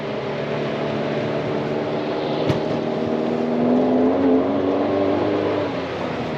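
A car on Nexen Winguard Sport 2 directional winter tires drives a snowy road at about 40 mph, a steady cabin drone of engine and tire roar that swells slightly mid-way, with no talk.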